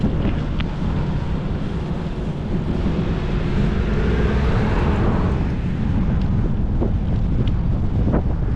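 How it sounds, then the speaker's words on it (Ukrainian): Strong cold wind roars and buffets the microphone steadily throughout a bike ride, a continuous rushing gust with no voices. "вітер зараз холодный, прямо в лице"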